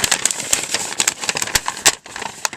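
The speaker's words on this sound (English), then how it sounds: "making all sorts of crinkly noises" Crinkling paper bag being cut with scissors, a close run of sharp crackling rustles and snips in irregular bursts with a brief pause near the end.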